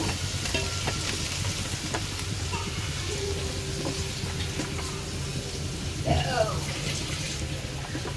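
Curry leaves are tossed into hot oil for a cucumber kichadi and crackle with a steady, close sizzle and stirring scrapes, plus a brief louder burst of spitting near the end.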